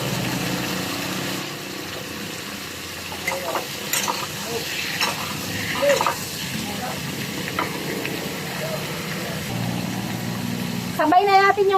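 Hard pumpkin pieces stir-fry in a hot pan after garlic, with a steady sizzling hiss, scraping stir strokes and occasional clatter, and a sharper clank near the end.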